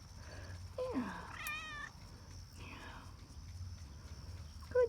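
A cat meows a few times nearby, drawn-out and rising, with soft background noise and quiet murmuring between calls.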